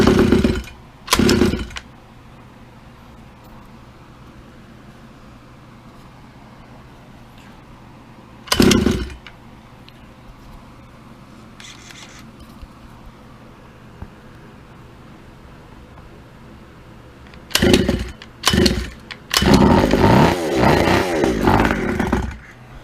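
Short bursts from a small Icepick 4 engine, carburetor removed, cranking over, separated by long quiet stretches, before it catches and runs roughly for a few seconds at the end.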